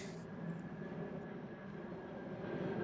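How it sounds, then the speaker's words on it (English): Low-flying Air Force plane passing over a home garden near Dover Air Force Base, a steady, faint broadband engine roar that holds level for the whole stretch, with no voices. "And we got a big old plane flying overhead."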